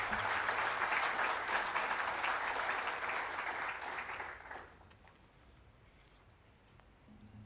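Dense applause from the audience at a provincial school-leavers awards ceremony rolls on for about four and a half seconds, then drops off abruptly, leaving quiet room tone.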